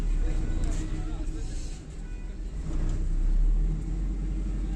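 A car drives along a mountain road in Nathiagali, Pakistan, its engine giving off a steady low rumble with road noise that swells and dips. A voice talks over it throughout.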